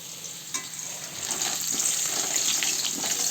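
Chicken cooks in a pan with ground ginger, cumin, chilli paste, salt and turmeric, making a continuous close sizzle that grows a little louder, with a few soft stirring knocks.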